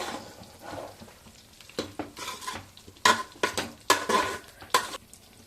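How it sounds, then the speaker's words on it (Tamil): A non-veg dish is mixed and stirred in a pan, with repeated loud scraping and clinking strokes of a spoon over a low sizzle. "நல்லா மிக்ஸ் பண்ணிக்கலாம்."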